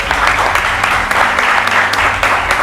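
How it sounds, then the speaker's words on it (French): Loud, dense applause from a large crowd at a school competition final's trophy presentation, continuous clapping with a low hum and murmur underneath. "Sous vos applaudissements."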